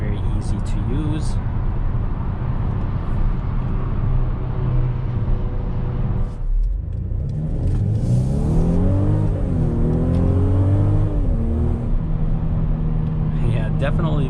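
Engine of a 2021 Mercedes-Benz GLC coupe heard from inside during an evening drive, a steady drone, then a pause before it revs up and climbs through the gears, the pitch rising and dropping in smooth sweeps.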